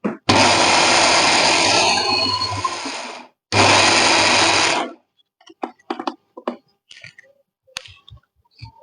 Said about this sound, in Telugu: నేను తక్కువే కాబట్టి మిక్సీలో పట్టుకుంటున్నాను